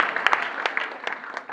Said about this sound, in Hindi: इनकी मुस्कान के लिए भी जोरदार तालियां बजा दी